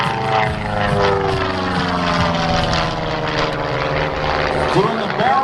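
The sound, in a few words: aircraft flying a barrel roll at air show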